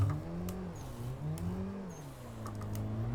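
A car engine revs during a clutch-kick drift in the Assetto Corsa racing game, its pitch swooping up and down in rising and falling sweeps, fairly quiet and alone, with a few faint clicks and squeaks.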